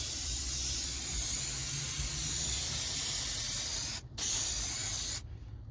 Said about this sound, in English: You don't want any of this brake clean getting inside your diff.